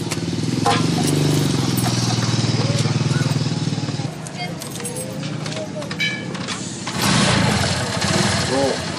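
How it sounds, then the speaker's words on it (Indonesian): A motorcycle engine starts and runs with a steady, loud putter, idling throughout while people talk over it, the engine note surging again near the end. "Motor gua udah nyala."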